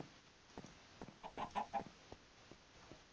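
Chickens on a video game farm clucking faintly, with a short cluster of sharper, louder clucks in the middle against a quiet, steady background hum.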